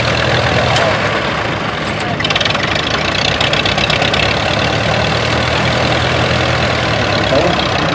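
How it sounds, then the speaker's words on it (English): A 1951 Farmall MD tractor engine runs loud and close with a plow behind it at a plow day, a steady rumbling idle that holds constant throughout with no speech. "A 1951 MD Farmall, and Mr. Larry Moore from Hopkinsville, Kent"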